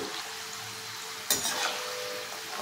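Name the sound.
rice flour gulla snacks frying in oil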